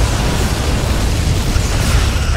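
A Borg vessel blowing apart in the space combat game Star Trek: Legacy: a continuous loud, rumbling roar of explosion noise, dense and low-heavy, sustained at steady volume for a couple of seconds with no voices.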